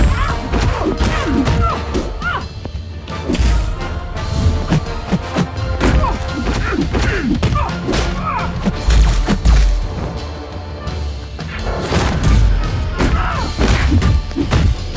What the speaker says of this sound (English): get Hulk and just start hitting her straight up to my SP2.